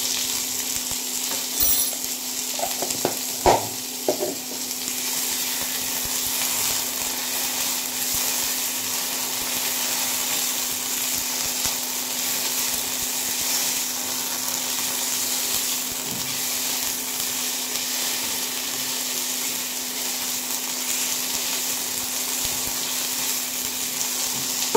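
Ginger and cumin paste frying in a pan for Bengali muri ghonto, a steady close sizzle with a few brief clinks of a utensil near the start, no talking.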